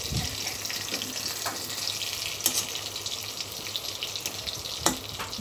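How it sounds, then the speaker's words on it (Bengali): Pointed gourd (potol) pieces fry in hot oil in a kadai with a steady, moderate sizzling hiss, broken by a few sharper crackles and pops. "মানে ভাজা হচ্ছে তেলে।"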